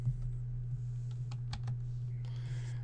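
Quiet keystrokes on a computer keyboard tap out a short command in a few uneven clicks over a steady low electrical hum, with no voices.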